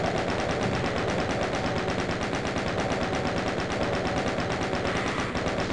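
Rapid, steady machine-gun fire from DOOM on the E2M4 Deimos Lab map rattles continuously for several seconds, each shot evenly spaced, loud and close with no voices.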